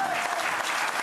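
A television studio audience breaks into a short, dense burst of applause that stays loud and even from start to finish.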